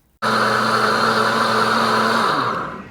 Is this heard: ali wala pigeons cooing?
no